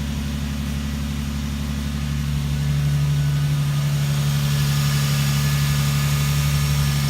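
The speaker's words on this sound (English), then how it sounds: "Start the car and let it idle until it reaches operating temperature" A Lexus GS300 (2nd gen JZS160) engine idles steadily after a radiator replacement, a constant low hum with a clear tonal drone that grows slightly fuller partway through; no voices.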